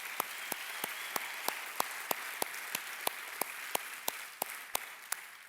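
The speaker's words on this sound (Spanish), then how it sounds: "Vamos a darle un aplauso al Señor por ello" A church congregation claps in an even, rhythmic beat, sharp claps repeating about three times a second for several seconds, with no voices over them.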